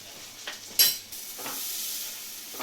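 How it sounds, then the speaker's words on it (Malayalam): Butter and flour sauce fries in a pan with a steady bright sizzle and hiss while a spoon stirs it, with a few sharp scraping strokes near the start. "നമ്മളതിൻ്റെ പച്ചച്ചുവ മാറുന്ന വരെ ഒന്ന് ഇളക്കി കൊടുക്കണം"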